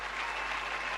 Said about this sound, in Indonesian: kita kasih tepuk tangan dulu dong untuk Vivi